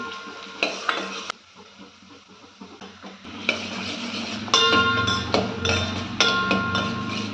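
Onions frying in a pan are stirred and mixed, with a sizzle that grows louder and a series of sharp utensil scrapes and knocks against the pan.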